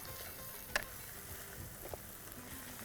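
Drumstick pieces coated in curry powder are sautéing in a pan, giving a faint, steady sizzling hiss with one sharp utensil click near the start and a few soft knocks after it.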